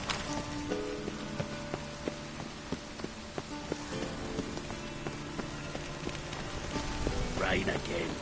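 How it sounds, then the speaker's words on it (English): Rain falls steadily in the Witcher 3 game world, a dense patter on surfaces with scattered drops, accompanied by soft tonal music and brief footstep-like sounds near the end. "Rain again."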